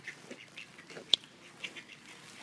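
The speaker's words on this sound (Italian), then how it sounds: "È il momento delle papere." Ducks quack faintly at a distance, a few scattered calls spread through the moment, with one sharp click standing out among them.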